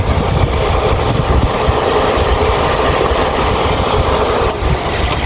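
A 2012 Suzuki Ertiga GL engine idles with a steady, low mechanical hum and a smooth, even rumble, recorded up close with no voices.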